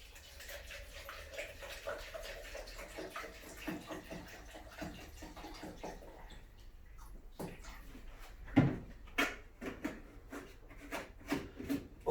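Water is poured to mix a disinfectant solution for fogging, a quiet steady splashing stream followed by scattered light knocks and handling sounds.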